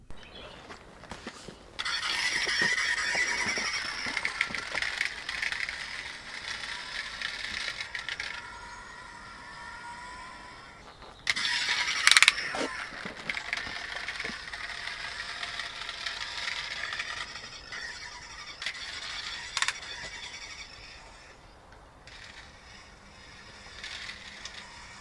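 A small pull-back toy Cybertruck motor whirring and rattling with ratchety clicks and squeals, varying as it runs, plus occasional sharper knocks; no talking.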